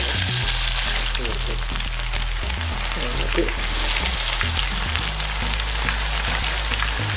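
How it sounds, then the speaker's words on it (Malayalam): Onions frying in oil in a pan, a loud, dense, continuous sizzle heard up close with scattered crackles and a low hum beneath. "സവാള ഇട്ട് കൊടുത്ത് നമുക്ക് വറുത്തെടുക്കാം"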